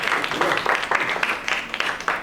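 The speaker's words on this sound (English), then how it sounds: "We applaud them." An audience applauds after a presentation at a traditional sports workshop, a short burst of dense, loud clapping that stays steady from start to finish.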